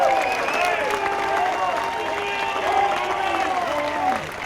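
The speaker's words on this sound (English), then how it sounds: "Another big round of applause for Melissa Stockwell, Chicago's own and USA" Spectators applaud at the 2016 Midwest Valor Games opening ceremony in Chicago, with sustained clapping overlaid by rising and falling cheers and whoops from the crowd.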